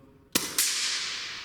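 An AGT Vulcan MK2 .22 air rifle firing a JSB pellet, tuned under 12 foot-pounds: a single sharp, close crack, then a second impact-like snap a quarter second later, each with a lingering hiss.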